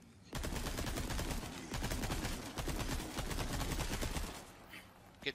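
Rapid gunfire in Resident Evil 4 Remake rattles in long dense bursts, loud and continuous, tapering off near the end.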